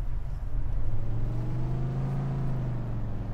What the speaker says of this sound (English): Out of all the trucks I think I've used, this one probably has one of the nicer sounding engines.